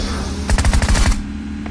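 Close, loud burst of automatic fire from a Groza rifle in a battle royale game, about a dozen rapid shots in quick succession lasting roughly half a second, then quiet background.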